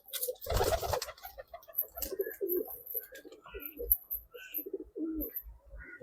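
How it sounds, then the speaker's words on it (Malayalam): Pigeons cooing in a loft, several soft throaty coos repeated at close range, with a loud flutter of wings near the start and someone talking faintly between the calls. "അപ്പോൾ ഇതൊക്കെയാണ് നമ്മുടെ പ്രാവ് കളക്ഷൻ."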